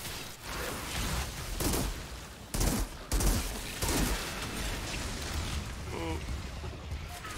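Pistol and other gunfire crackle in the Outriders video game as a dense, continuous battle din with a few sharper bursts standing out.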